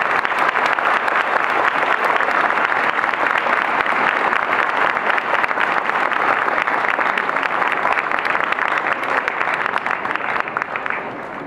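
Sustained, dense applause from a congress audience after a talk on ageing and loneliness, loud and even throughout and tapering only slightly at the end.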